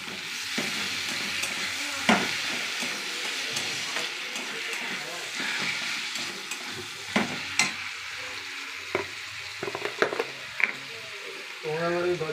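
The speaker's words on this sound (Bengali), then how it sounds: "এবার আমি কাটা টমেটোটা দিয়ে দিচ্ছি" Chopped tomatoes sizzle and fry with onions in a pan at home for Patiala chicken, a steady close crackling hiss broken by occasional stirring scrapes and clacks.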